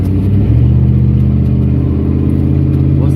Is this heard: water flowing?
no